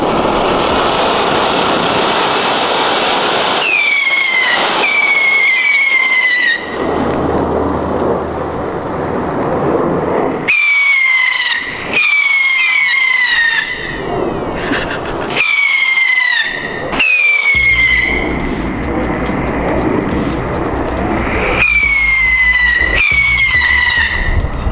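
Loud fireworks go off one after another, each with rising, whistling shrieks and crackling bursts, close by and almost continuous.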